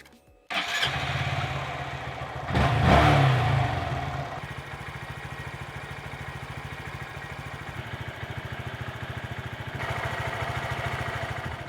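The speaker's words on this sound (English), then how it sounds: "So I went ahead and let my Grom warm up for about 15 minutes or so." Honda Grom motorcycle engine warming up: the single-cylinder catches and settles into a steady, even idle, with a brief louder rev early on before dropping back to a continuous near putter.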